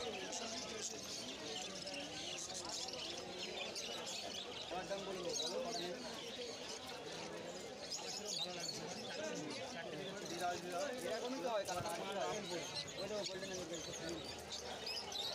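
Caged finches and Java sparrows chirp steadily at a busy outdoor pet bird market, their overlapping tweets mixing with crowd chatter and the continuous murmur of people talking.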